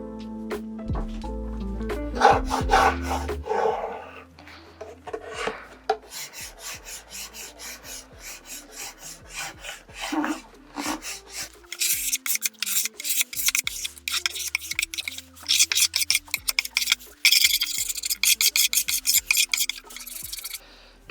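A red abrasive pad scrubs chemical stripper off a wooden Art Deco cabinet door in repeated rasping strokes. The rubbing is sparse at first, then becomes a fast, rhythmic back-and-forth scouring that grows louder and denser.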